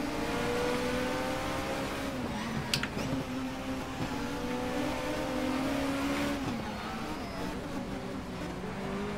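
A WTCC touring car racing at Zandvoort in Race 07 with its engine droning and rising in pitch through gear changes while overtaking around the outside, other cars audible nearby and the engine loud and close.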